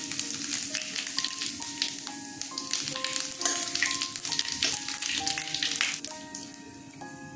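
Dried chilli, bay leaf, fennel and cumin crackle and sizzle in hot oil for a vegetarian Ashtami thali, a dense close spitting sound that continues steadily before easing off slightly.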